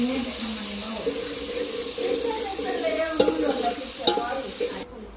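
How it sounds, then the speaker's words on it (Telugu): Onions and tomatoes fry in oil in a kadai over a wood-fired stove for country chicken curry. A steady close sizzle runs throughout with a few sharp stirring clinks, and a voice murmurs faintly underneath. "మనం ఆయిల్ పోసిన వెంటనే ఆనియన్స్ టమోటాస్ వేసుకొని బాగా వేగనివ్వాలి"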